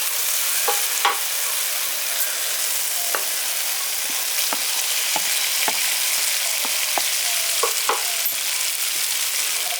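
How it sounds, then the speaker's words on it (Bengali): Fried potatoes and pointed gourd drop into hot spiced oil in a pan, sizzling steadily and loudly throughout with occasional soft stirring taps. "এবার ভেজে রাখা আলু আর পটলটা দিয়ে দিচ্ছি।"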